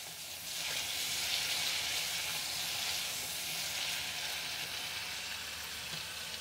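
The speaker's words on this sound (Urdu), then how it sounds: "چکن کو ہم 7 سے 8 منٹ فرائی کر لیں گے" Chicken pieces fry in hot oil in a pan for a Lahori murgh cholay, giving a steady, loud, broadband sizzle that holds evenly throughout with no talking.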